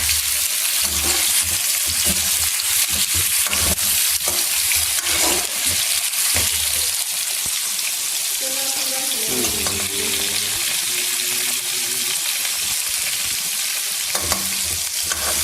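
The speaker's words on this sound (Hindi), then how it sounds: "अभी हम इसमें ऐड करेंगे चिकन।" Loud, continuous sizzling of chicken frying in hot oil with cumin, with scraping and stirring noises and occasional clatter throughout.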